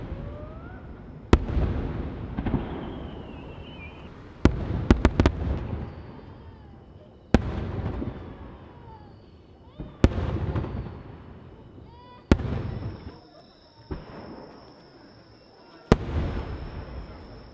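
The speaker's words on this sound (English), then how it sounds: "Each boom echoes across Katakai." Fireworks boom one after another at the Katakai festival in a quiet town, sharp loud blasts roughly every few seconds, each trailing into a long rolling echo, with faint voices murmuring between bursts.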